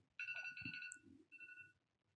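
An alarm ringtone plays from a Flutter onboarding app, a short electronic melody of bright sustained tones that pauses briefly and resumes with a second phrase, faint and alone.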